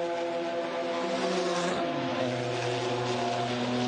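Porsche race cars at speed at the Hampton Downs 12 Hour endurance race, engines holding a loud, steady, multi-layered roar whose pitches bend as one car passes another.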